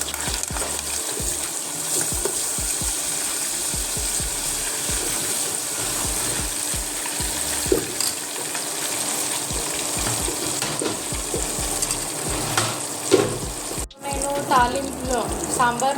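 Brinjal and bottle gourd pieces go into a sizzling asafoetida tempering for sambar, a steady close frying crackle with stirring clatter and a brief splash of water toward the end.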